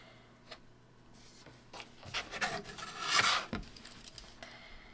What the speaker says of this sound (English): So you can draw your diagonal line.